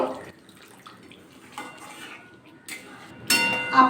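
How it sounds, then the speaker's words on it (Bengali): Water added a little at a time to egg curry in a pan, a few brief splashes and clatters in a quiet kitchen, with a louder pour near the end. "এবার জল অ্যাড করবো বেশি না অল্প করে জল অ্যাড করবো"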